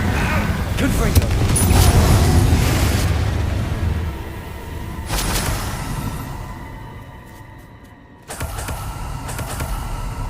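Fiery Confringo blasting spells boom out in a Hogwarts Legacy fight against Inferi, with heavy rumbling explosions swelling and fading over several seconds, a sharp crack partway through and another burst near the end, under a speaking voice.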